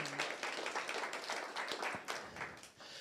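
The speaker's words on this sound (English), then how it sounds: "so a round of applause to our sponsors." A small audience at a morning talk applauds its sponsors, a Strange Donut and Goshen Coffee event, in a steady wash of clapping that runs the full length at moderate loudness and fades slightly near the end.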